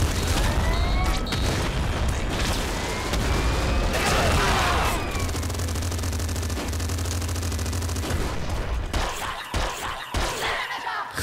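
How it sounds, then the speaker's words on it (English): Firing-squad gunfire in the Nuclear Throne game: a dense, continuous barrage of rapid shots and booms, loud and unbroken for most of the stretch, thinning into scattered bursts near the end. "Oh my god, the firing squad."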